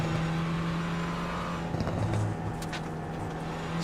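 A Renault Clio Cup race car in iRacing runs at the Nürburgring at night, its engine a steady, sustained drone with a brief rise in pitch, heard alone with no commentary over it.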